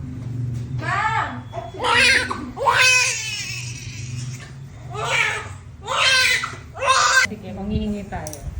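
A woman in childbirth cries out in long, loud, strained screams and wails, several bursts in succession over a steady low hum, with other people talking around her.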